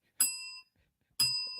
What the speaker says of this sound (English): Where's that bell? Ding. Ding.